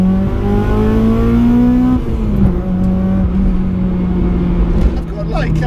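A car with a Tegiwa full exhaust system pulls hard from inside the cabin, engine note rising steadily then dropping with a gear change and climbing again, loud and droning, with a faint turbo dump valve hiss near the end.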